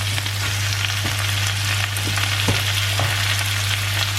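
Spinach hitting a pan of frying onion and garlic, a loud, constant sizzle with faint stirring clicks, close up and with no one talking.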